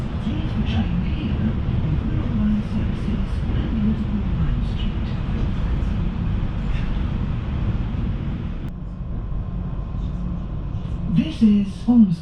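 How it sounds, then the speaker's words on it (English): A passenger train running toward Ormskirk on a day trip to Liverpool gives a steady, loud rumble and rush through the carriage that goes on without a break, with a faint change near the end as brief sounds rise over it. "We're now on the slightly earlier train."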